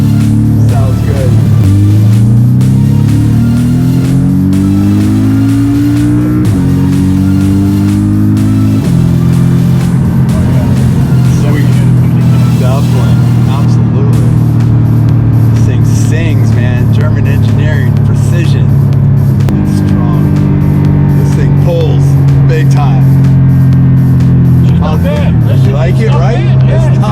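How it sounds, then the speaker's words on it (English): Porsche 718 Cayman with an APR tune and PDK dual-clutch gearbox, heard from the cabin: a loud, steady engine rumble rising and falling in pitch through several gear shifts, with voices at times. "hear the PDK, hear the rumble."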